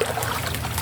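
Water in a river stream trickles and flows close by in a short, steady burble, with no voices over it.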